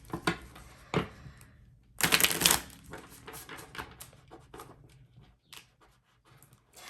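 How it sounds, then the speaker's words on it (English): Tarot cards are riffled and tapped in quick clacking bursts, with one loud dense shuffle in the middle, close-up in a quiet room, then scattered soft taps. "Give them one good shuffle just to be sure."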